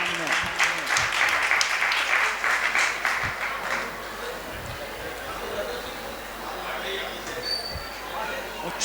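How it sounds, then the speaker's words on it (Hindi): Audience at a Jain Moksha Saptami discourse applauding in honour of a family, a dense burst of clapping that is loud at first and then tapers into scattered claps and crowd murmur, with voices mixed in. "जोरदार तालियां बजाइएगा मॉडल परिवार के सम्मान में।"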